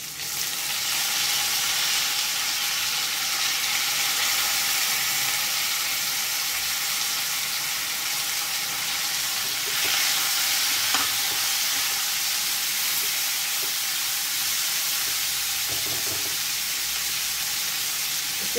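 A large onion frying in hot oil in a pan for tomato korma gives a steady, dense sizzle that runs unbroken throughout, with a few faint utensil taps near the end.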